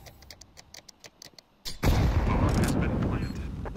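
A grenade detonates in a Counter-Strike match during a two-versus-three post-plant round at ESL Impact, a sudden loud broadband blast following light clicking and ticking, then a sustained rumbling roar that slowly fades.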